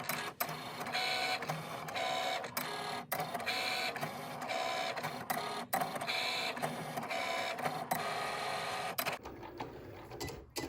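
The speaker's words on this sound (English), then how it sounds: "It's cutting each of those bows. Pretty awesome machine here." A Cricut machine cuts sticker sheets, a close, steady mechanical whir rising and falling in repeated passes, with brief clicks between movements.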